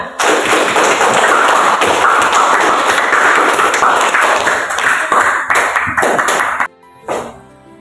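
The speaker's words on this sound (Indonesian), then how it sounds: "kita memberikan aplaus untuk Ananda Beratung Husna" A classroom full of students applauding a pupil, dense steady clapping that fills most of the clip before cutting off abruptly near the end.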